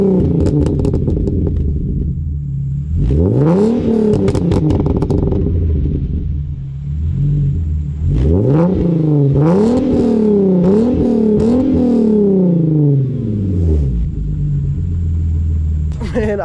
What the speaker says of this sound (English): let's listen to some revs and stuff now